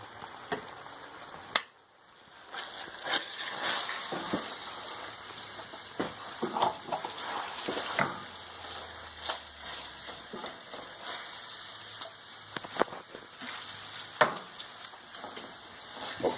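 A sloppy joe meat mixture simmers in a pan, giving a close, busy bubbling and spitting sizzle with scattered sharp pops and crackles throughout, no voices present.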